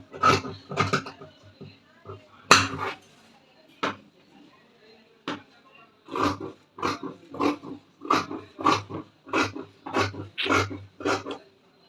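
Scissors snip through school uniform fabric in a quick, regular run of crisp cutting strokes, with a few scattered snips and some faint talk before the steady sequence.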